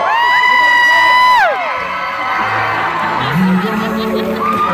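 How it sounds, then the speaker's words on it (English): A convention panel audience breaks into loud, close cheering and whooping, with high screams that cut off sharply after a second or so, then settles into a steady crowd roar with scattered shouts and voices. "Everybody, clap!"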